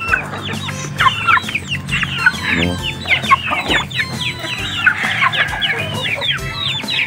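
Chickens cluck and squawk busily during dry feeding with rice bran, a dense flock chorus of overlapping calls close by, with a few louder squawks and no talking.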